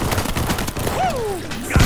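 Dense bursts of rapid gunfire crackle through the first half, followed by a whooshing sweep and a final loud hit, during frantic zombie combat in World War Z.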